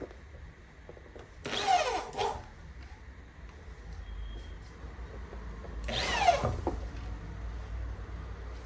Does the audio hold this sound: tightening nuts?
yes